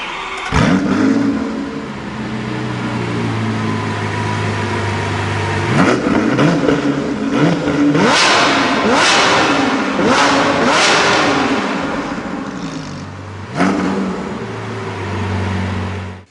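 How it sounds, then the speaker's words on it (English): A Lamborghini Sián's 6.5-litre V12 barks through its rocket-launcher-style exhausts in a series of loud, sharp revs, each flaring up then settling back to a burbling idle between blips. "we've got the rocket launcher style exhausts, which blast out the sound of that glorious V12 engine"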